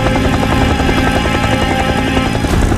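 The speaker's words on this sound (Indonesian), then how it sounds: "Akhirnya helikopter penyelamat tiba, menjemput mereka pulang dari medan pertempuran." A rescue helicopter flies away from a ruined city, its rotor drone steady and loud for the whole stretch with no voices over it.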